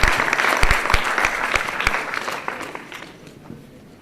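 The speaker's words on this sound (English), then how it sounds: "Let's stand up, applause." An audience at a live-streamed air pollution research session bursts into applause, dense clapping with a few sharp claps standing out, gradually fading away.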